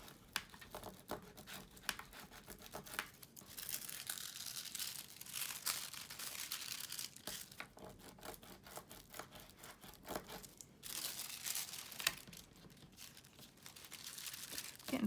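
Foil is worked onto handmade winter paper tags, making quiet, close crinkling and rustling with small rubbing and tearing-like scratches throughout.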